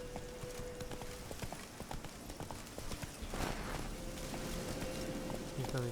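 Roach the horse gallops in The Witcher 3 with a rapid, steady hoofbeat rhythm that stays close, over a busy game background with brief tonal cues.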